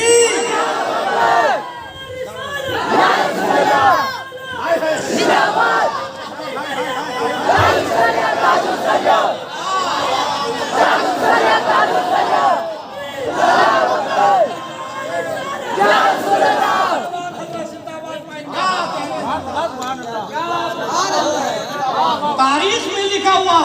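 A large gathering at an Islamic religious speech shouts the Takbir slogan together, a loud, sustained roar of many voices rising and falling in waves.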